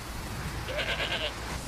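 A goat in an open outdoor area gives a single wavering bleat lasting about half a second, heard over steady background noise.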